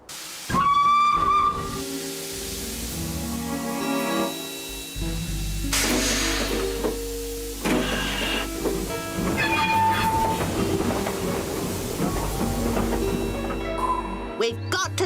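Cartoon steam train on rails: a whistle blast opens, followed by hissing steam and rumbling, clattering passage with further whistle tones over music, fairly loud throughout.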